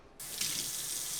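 Water pours steadily into a blender, a sudden bright splashing rush that starts abruptly and continues evenly and close.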